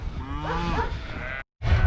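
Beef cattle moo nearby in a herd, one drawn-out low call with a rising tone, followed by a short break and more rumbling noise.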